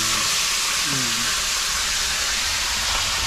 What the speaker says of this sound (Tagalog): Nagpiprito lang tayo.